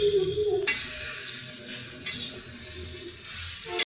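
Pumpkin leaves tossed into hot oil with fried potatoes in a pan, sizzling steadily as they are stirred, with a scrape at the start and a sharp knock near the end, close and alone.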